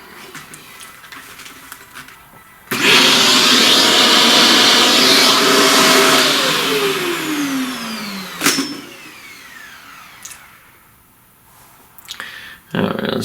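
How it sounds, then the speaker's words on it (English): A vacuum cleaner starts up loud and close, runs steadily as its tone shifts while it moves over a charcoal drawing, then cuts off abruptly, followed by a few quieter handling noises. "Let's vacuum."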